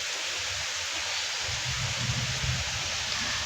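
Rain starts falling again outdoors at a home, a steady broadband hiss of drizzle with a low rumbling swell partway through, moderately faint and without talk.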